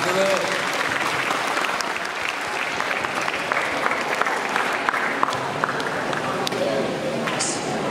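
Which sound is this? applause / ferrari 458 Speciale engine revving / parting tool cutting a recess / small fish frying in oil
applause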